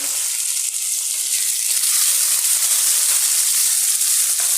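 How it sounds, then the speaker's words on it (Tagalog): Loud steady sizzling of garlic, onion, ginger and tomato sautéing in hot oil for a Filipino squid dish, with faint stirring clicks and no talk. "Ayan, igisa-gisa lang po natin."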